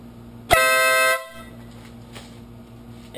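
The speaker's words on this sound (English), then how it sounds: "I'm going to give you just a really quick demonstration of the air horn and what it sounds like" A Denali air horn mounted on a motorcycle blasts once, a loud bright sustained tone lasting just over half a second before cutting off to a quiet idle hum.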